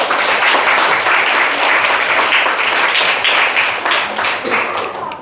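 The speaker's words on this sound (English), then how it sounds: "Give her a clap." Audience applause and clapping at an art talk, a dense steady burst of many hands that stays loud for about five seconds before tapering slightly at the end.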